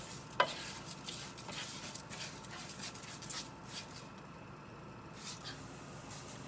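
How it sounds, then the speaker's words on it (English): Rice being stirred as it toasts dry in a pan for Spanish rice, a soft scraping and rustling with a few sharper scrapes, fairly quiet and close, with no talk over it. "I'm just going to stir this until the rice is brown"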